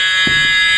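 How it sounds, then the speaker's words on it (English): A fire alarm sounds continuously, a loud piercing electronic tone filling the whole brief moment without a break. "That's a fire alarm?"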